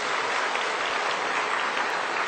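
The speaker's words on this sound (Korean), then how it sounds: "그 하나님 아버지께 감사 박수합니다." A church congregation at a Sunday service claps in thanks to God: dense, even applause from many hands, loud and close, with no talking during it.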